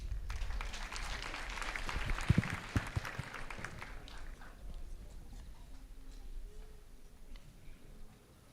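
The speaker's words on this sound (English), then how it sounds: "A round of applause for him," A graduation ceremony crowd gives a round of applause, dense and lively at first with a few sharper claps, then thinning out and dying away to quiet room tone.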